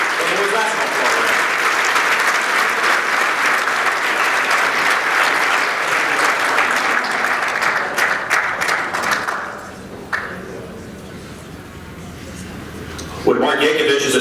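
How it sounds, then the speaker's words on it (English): A large crowd at a senior student-athlete luncheon applauds loudly and steadily for about ten seconds, then the clapping fades into quieter room noise before a brief burst of sound. "Please join me in a round of applause"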